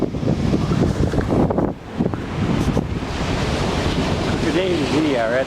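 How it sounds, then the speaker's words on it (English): Big ocean waves break at a beach in a constant loud roar mixed with heavy wind buffeting the microphone, with faint voices in the background. "Waves are big."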